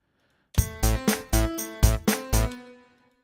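A synthesized bass plays a short run of seven punchy, evenly spaced notes, each with a sharp attack, then fades into silence.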